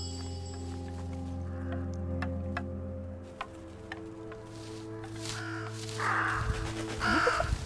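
Crows caw a few times in the Röki video game, in a freezing outdoor scene near an outhouse, with louder calls near the end over a steady musical drone.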